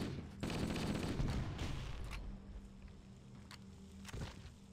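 Machine gun fire in the video game Halo: Combat Evolved, with a dense rattling burst for about two seconds, then a lingering hum and a few sharper single shots.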